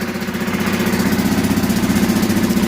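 A Yamaha Kodiak ATV engine idles steadily just after starting with a little choke, a close, even low putter with a regular pulsing rhythm throughout.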